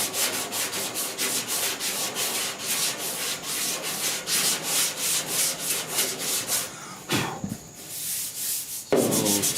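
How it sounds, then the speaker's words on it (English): Block sanding primer surfacer on the dash of a 1966 Ford F100 truck, a loud, close, rhythmic scratching of back-and-forth strokes, steady at first, then a brief pause and a few heavier strokes, with no talk. "I got to sand down into this corner, which you can't see."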